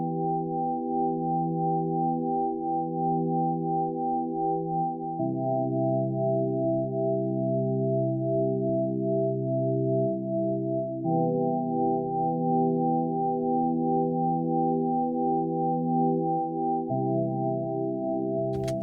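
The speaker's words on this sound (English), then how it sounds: "this pad is from Augmented Grand Piano" Breath of Light pad from the Arturia Augmented Grand Piano, a soft sustained synth pad playing steady held chords that shift every few seconds, with warm low-mid harmonics and no voices.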